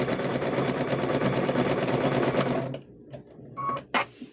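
Sewing machine stitching an apron, running steadily and close with a fast regular whir for most of the clip, then stopping abruptly, followed by a few short bursts and near silence.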